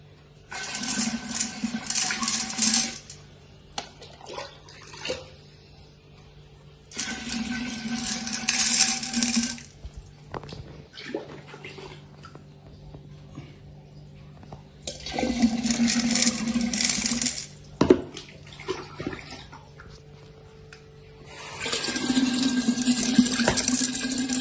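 Water poured in long splashing bursts into a broken aquarium bowl, four pours separated by quiet pauses, close and fairly clear with small clinks in between.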